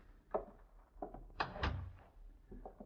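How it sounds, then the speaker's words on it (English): Radio drama door effect: several wooden knocks and thuds, ending in a heavier closing thunk in the middle, then a few softer bumps in a quiet room. "Close the door, please."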